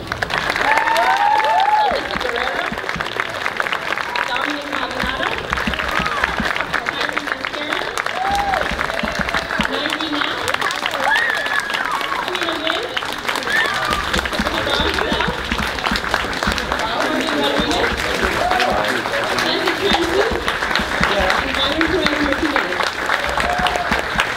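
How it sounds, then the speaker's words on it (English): An audience at a sixth grade promotion ceremony applauds steadily, with dense clapping from a large crowd that stays loud and continuous throughout. "we'll give them a round of applause"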